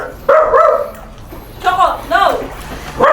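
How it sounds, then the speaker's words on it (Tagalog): Several dogs bark and yip in short bursts at a house during a parcel delivery, loud and close, with a person calling out over the barking. "Daming aso ay."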